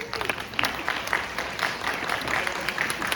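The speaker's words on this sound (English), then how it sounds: "Let's give her applause, y'all." A modest crowd at a school band booster meeting applauds, giving scattered, fairly quiet clapping that continues evenly for a few seconds.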